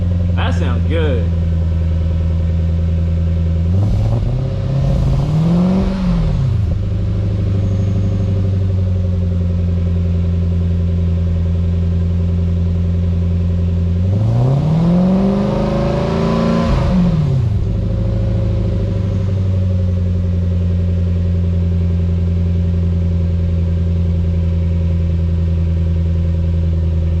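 Lexus IS300 with a swapped 3UZ V8 and full custom exhaust idling with a deep, loud rumble, then revved twice, each rev rising and falling smoothly before settling back to idle.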